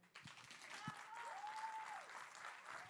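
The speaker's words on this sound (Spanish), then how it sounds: "Un aplauso, por favor." An audience at a poetry tribute evening applauds, a moderate, fairly even clapping that starts with a few sharp claps and settles into steady applause, with a faint sustained tone briefly rising behind it.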